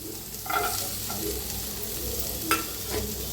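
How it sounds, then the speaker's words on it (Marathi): Onion, garlic and green chillies sizzle and crackle as they roast in a hot pan, with a couple of scraping stirs breaking through the steady frying hiss. "हे सगळं मिळून भाजून घेऊया आपण"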